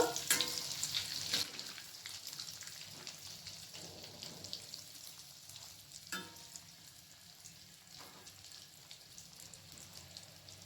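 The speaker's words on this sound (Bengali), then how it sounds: "এরপর বাকি বলগুলোকে আমি ভেজে নেব। এপিট ওপিট করে দুপাশটাই ভেজে নেব।" Bread balls fry in a pan, turned to cook both sides, with a soft, continuous sizzle and scattered light crackles and pops that fade gradually.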